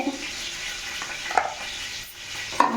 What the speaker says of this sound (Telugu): ప్యాన్ పెట్టుకొని కొద్దిగా ఆయిల్ వేసి ముందుగా ఎర్రగడ్డలు, పచ్చిమిర్చి